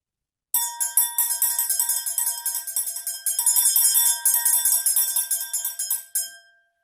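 Rapid ringing tones from tuned glasses struck with chopsticks, a dense shimmering series of bright bell-like hits blending into a sustained tinkle for several seconds.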